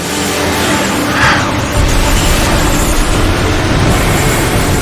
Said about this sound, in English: Decepticon warp cannon!